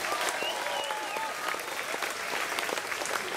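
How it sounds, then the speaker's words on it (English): An audience at a folk concert in Abbotsbury applauds the crew, with steady, fairly close clapping and a few scattered shouts mixed in. "Please give the crew a round of applause."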